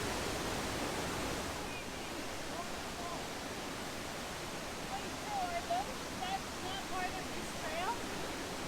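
Cascade Falls in Rocky Mountain National Park, a steady broadband rush of falling water filling the scene, with faint voices talking beneath it.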